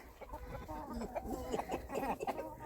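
Several chickens, small hens among them, cluck in a steady, busy stream, their short calls overlapping at close range with no talking.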